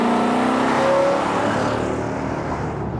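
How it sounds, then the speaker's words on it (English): A 1963 Buick Riviera's engine runs smoothly and steadily, a loud, close, even hum that stays level throughout with no voices over it. "That is one smooth running Riv."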